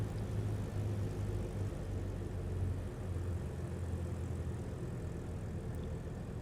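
Small airplane floating down the runway during landing, a steady, close engine and propeller drone with a low hum holding throughout, no speech.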